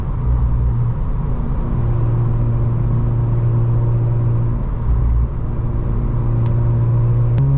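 A Mazda RX8 rotary engine drones loud and steady from inside the car on a mountain road, holding a sustained hum with slight shifts in pitch under road rumble.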